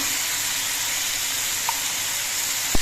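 Ridge gourd with a fine spice paste sizzling in a pan, a constant bright hiss that stays close and even, with a faint click near the end and no voices.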